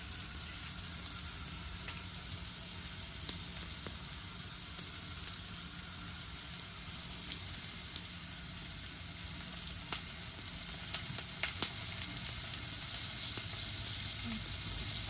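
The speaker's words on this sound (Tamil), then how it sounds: "வதங்கட்டும். வெங்காயம்" Onions fry in a pan for a Sri Lankan-style fish curry made without coconut milk, giving a soft, continuous sizzle that crackles a little more in the last few seconds, with nobody speaking.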